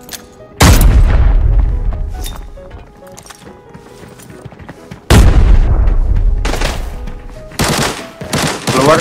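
Bomb blasts in the Arena Breakout shooter video game, two heavy booming explosions a few seconds apart, each with a long rumbling decay, loud and close, followed by sharp bursts of gunfire.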